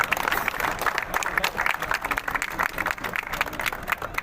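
A dense, steady burst of many hands clapping from an audience welcoming a guest at a bar association election gathering at Saket Court, sustained and fairly loud throughout with no voices over it.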